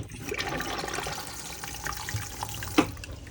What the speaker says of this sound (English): Flush fluid pumps around the toilet bowl